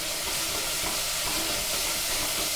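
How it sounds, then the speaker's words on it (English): Chopped tomatoes frying with curry leaves in a pan for Mangalorean clam sukka, a loud, constant close sizzle and hiss of oil with light stirring scrapes, no talking. "now we need to fry these tomatoes till it becomes nice and soft"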